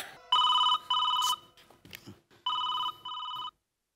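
A telephone rings with a classic double-burst electronic ring, two pairs of bright tonal pulses separated by a pause, close and clear, with faint room noise between.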